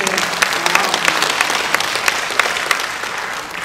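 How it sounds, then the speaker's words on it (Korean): An audience of monks and listeners claps at a meditation lecture during a Buddhist culture fair, a brief burst of moderately loud, scattered applause that tapers off near the end. "박수 한번 보내주세요."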